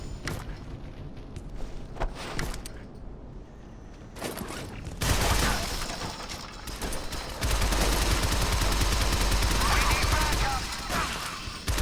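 Sustained assault rifle fire in the Shadow Complex video game, loud and dense, with bursts thickening into near-continuous rattling blasts and booms across the clip.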